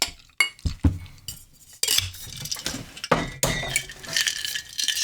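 Moscow Apple cocktail ingredients and ice are dumped into a metal shaker, giving bright, close glassy clinks and rattling ice clatter in a few irregular bursts.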